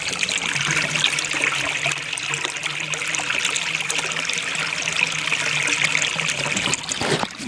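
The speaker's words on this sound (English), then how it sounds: "Here's more of the canals. Isn't that beautiful? Listen to the sound of the water." Water flowing in a canal, a continuous close trickling and babbling stream that stays steady and moderately loud throughout, with no voices.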